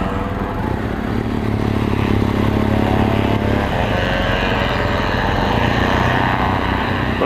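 A dense crowd of motorcycles departing the damp, soggy Silverstone British Grand Prix, many engines droning and revving together in a loud, continuous rumble.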